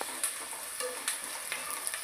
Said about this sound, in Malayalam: സവാള നല്ലോണം ഒന്ന് വഴണ്ട് വെക്കുക കേട്ടോ